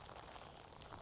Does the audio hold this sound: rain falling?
yes